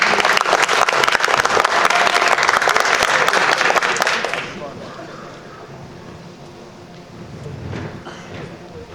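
Loud, dense audience applause at an academic presentation event welcomes a student team, lasting about four seconds before cutting off abruptly into quiet room tone and shuffling.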